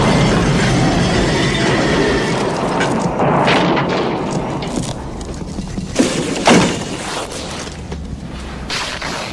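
A subway train speeding at frantic pace in the film Highlander 2, a dense roaring rush of rattling wheels and screeching metal with sharp crashes near the end, loud and continuous without speech.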